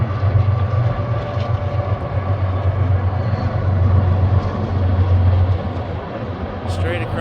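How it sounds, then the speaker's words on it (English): A train rumbles steadily along the shore below river bluffs overlooking Lake Pepin, a low continuous roar heard from a distance outdoors. "Down below, if you fished here before, it's train time."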